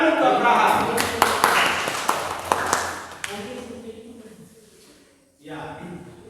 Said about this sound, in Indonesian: tepuk tangan untuk Abraham